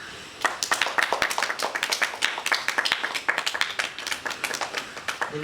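An audience at a school supplies distribution event claps steadily and close, a dense rhythmic patter of many hands lasting throughout with no pause.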